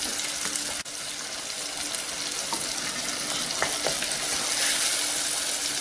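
Tomatoes with turmeric cooking down in a pan for a tamarind curry, a steady soft sizzle with occasional faint stirring scrapes, fairly quiet and without voices.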